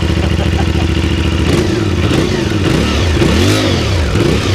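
A CFMOTO 450MT motorcycle with a stock Akrapovic exhaust idles loudly up close, then takes several quick throttle blips that rise and fall in pitch, with the blips coming closer together toward the end.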